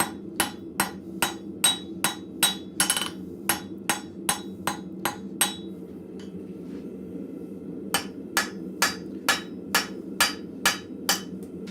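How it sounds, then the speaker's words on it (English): Light ball peen hammer striking hot steel at a blacksmith's forge: a steady run of sharp metallic blows, then a pause of about two seconds, then another evenly spaced series, close and loud over a low background hum. "this is actually quite a light hammer, so it doesn't move steel nearly as much as the other hammer"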